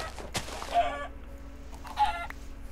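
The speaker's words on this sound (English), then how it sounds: "It's a freaking red rooster." A red rooster in a Minecraft Village Defender mod gives two short clucking calls about a second apart, heard over a low game ambience with a sharp click before the first.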